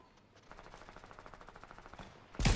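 Rapid bursts of assault rifle fire in Fortnite, using a heisted explosive assault rifle, crackle in a steady automatic rhythm at moderate volume before a sudden loud blast at the end.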